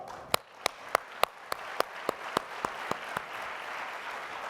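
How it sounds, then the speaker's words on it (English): Conference audience gives a round of applause: a soft ongoing patter of many hands, with a dozen sharp, evenly spaced loud claps from one nearby person standing out over the crowd for the first few seconds. "So a round of applause to you for being consistently awesome."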